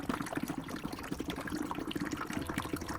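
Frigidaire countertop ice maker pumping water, a steady close trickling and gurgling flow with a faint motor hum underneath, continuous throughout.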